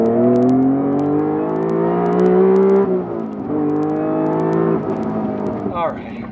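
A high-revving Honda VTEC engine howls with rising and falling harmonic pitch, loud and close, with a brief dip near the middle before climbing again.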